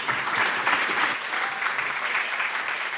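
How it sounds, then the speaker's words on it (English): A conference audience applauds a guest speaker, a short, even burst of crowd clapping at moderate loudness with no break. "So give him a big round of applause."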